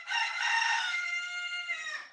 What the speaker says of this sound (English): there's a rooster crowing where she is.